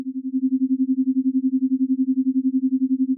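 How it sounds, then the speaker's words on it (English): Synthesizer tremolo on a modular setup, an LFO modulating a VCA's level: a steady low tone pulsing quickly and evenly in volume, about nine throbs a second, alone and constant. "we'll hear a tremolo type sound."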